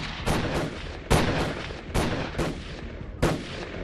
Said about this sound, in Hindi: इनोवा कार की अगली सीट को टारगेट कर फिर से फायरिंग करने लगते हैं